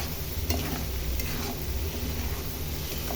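Salt and red chilli powder being stirred into masala in a pan for a prawn malai curry, a continuous close sizzle with soft scraping stirs and an occasional light utensil tick.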